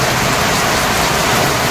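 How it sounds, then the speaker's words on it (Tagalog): Heavy rain pours down steadily in the late afternoon, a loud, dense, continuous hiss of falling water with no break and no voices. "Nakikita naman ninyo malakas ng ulan."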